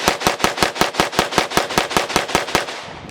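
A CZ EVO 3 S2 Micro Scorpion firing a rapid string of about fourteen loud, evenly spaced shots, close and booming, before a short ringing tail.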